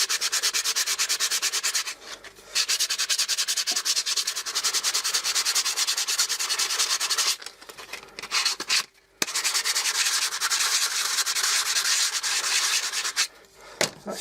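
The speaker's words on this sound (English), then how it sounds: "it is quite literally just rough it up with some sandpaper" A wooden bird-table pillar being roughed up with sandpaper: loud, steady rasping strokes close by, continuing for long stretches with a few short pauses and no speech.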